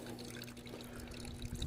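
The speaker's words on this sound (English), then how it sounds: "See how these artesian springs just continue to run out of this hillside" Artesian spring water running out of a hillside beside a river, a soft, continuous trickle and gurgle with a faint low hum underneath, quiet and steady.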